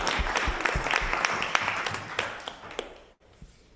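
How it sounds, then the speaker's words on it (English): Church congregation applauding during a Sunday service in Vermont, a loose scatter of individual claps that thins and fades toward the end, with a brief near-silent gap before a few last claps. "and applause"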